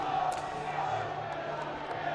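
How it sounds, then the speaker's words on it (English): Crowd noise from Alloa supporters packed behind the goal at a Scottish League One football match against Hamilton, a steady distant roar of cheering with faint shouts rising out of it. "There's a strong Alloa contingent behind the goals, cheering them on"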